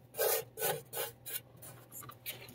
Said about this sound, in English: I like to scrape off the old gasket here.